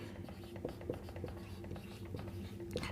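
Marker or chalk strokes on a board during a Hindi probability lesson, a string of short scratchy writing strokes heard close beneath faint, soft speech.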